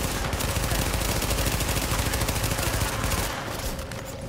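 Sustained, dense submachine-gun fire in the shooter game The Division, loud and continuous for several seconds with rapid overlapping bursts before easing slightly near the end.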